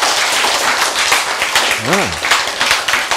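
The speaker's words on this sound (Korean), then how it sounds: "박수." An audience claps continuously through a lecture hall, a steady crackling wash of applause with a short spoken interjection and a brief voiced tone in the middle.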